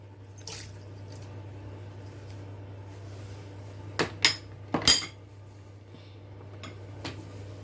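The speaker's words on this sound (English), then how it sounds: "First, put your washed prawn and seafood in the pot." Washed prawns and seafood going into a cooking pot, heard as a few close clanks and clatters of metal against the pot over a low steady hum, with wet drips between.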